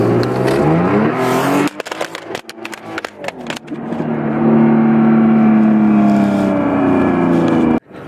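Car exhaust revving, heard from outside the vehicle: loud, close engine roar with choppy bursts and crackles, then a sustained rising rev that holds before cutting off abruptly.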